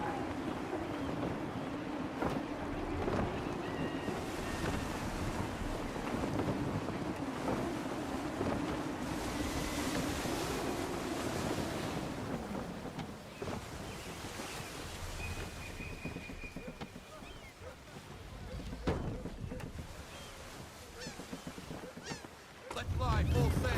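A sailing ship in Assassin's Creed III pushes through gusty wind and waves, with a steady roar of wind and water throughout, a low rumble in the first half and brief creaks and tones over it.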